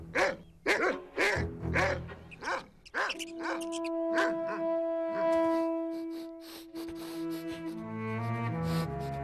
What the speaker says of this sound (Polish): Pies. Blisko. Chyba jeszcze nas nie wyczuł.